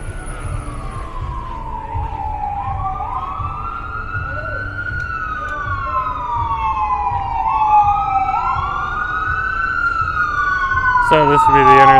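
Two fire truck sirens wail through a Vancouver street intersection at Columbia and Powell, overlapping rising and falling tones growing louder as they approach over traffic rumble, ending with a sharp horn blast.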